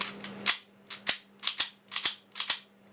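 Slide of a Tokyo Marui SIG P226 airsoft pistol being racked repeatedly, about six sharp metallic clacks in quick pairs, close and crisp against a faint background hum.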